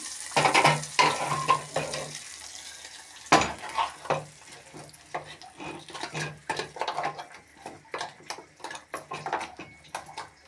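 Repeated scraping and soft clinks of a spoon stirring thick mint chutney in a pan, steady rhythmic strokes up close.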